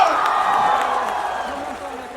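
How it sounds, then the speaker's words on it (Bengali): Crowd applause and cheering at an award ceremony in Bangladesh as a crest is presented, a steady mass of clapping with a voice heard over it, slowly fading. "জোরে একটা করতালি হয়ে যাবে"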